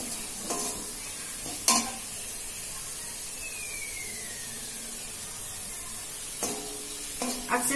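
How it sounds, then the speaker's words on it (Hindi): Samosa filling fries in a pan over low heat, a soft constant sizzle with a few sharp stirring scrapes of a spoon against the pan at intervals. "फिर एक बार अच्छे से मिक्स कर दूंगी।"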